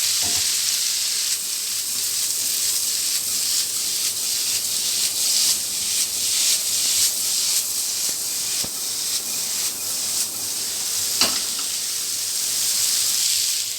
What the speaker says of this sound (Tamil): இந்த மசாலாவோட காலிஃப்ளவரை நல்லா பரட்டி விட்டுக்கிறோம்